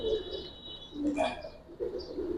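Giribaz pigeons coo at a pigeon fair, a few soft, low rolling coos near at hand, with faint background murmur and a brief higher chirp.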